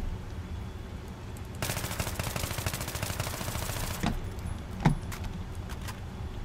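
AEK-971 assault rifle fire in Battlefield 3, a rapid sustained volley of about two and a half seconds followed by a couple of single shots and clicks, loud and close, no talking.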